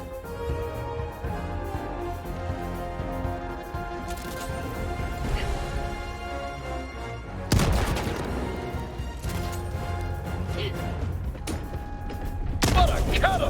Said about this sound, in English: Now, use a grenade to close up that bug hole.